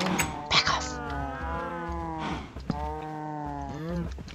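Cows in a farm video game give long, drawn-out moos, two near, loud calls one after the other with a brief break between them, and nobody talking.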